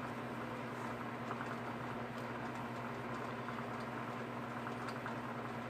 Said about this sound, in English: excuse me if you can hear white noise in the background, that's the fan. I have to have a fan in the room.